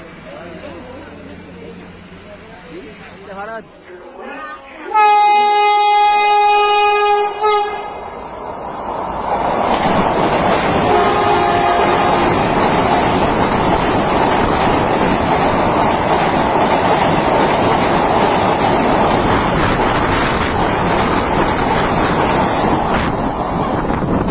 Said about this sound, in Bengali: অবশেষে সাতটা বাইশের মধ্যে আমাদের আসছে পাঁশকুড়া লোকাল এই ট্রেনটাই যাবে দীঘা